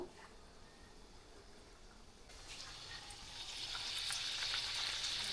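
A sweet karanji pastry fries in oil over a medium gas flame, giving a faint sizzle that swells into a brighter, steady crackle as it settles in.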